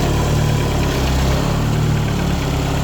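A truck engine with dual exhaust idles with a deep, steady rumble and throaty exhaust burble, loud and close, with a constant vibrating drone.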